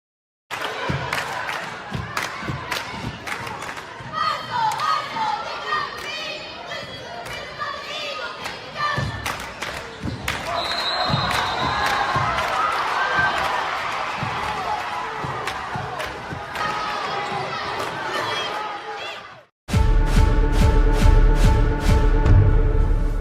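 A high school cheer squad yells and chants amid crowd noise, with thumps and stomps punctuating the routine, loud and energetic throughout, then ending abruptly.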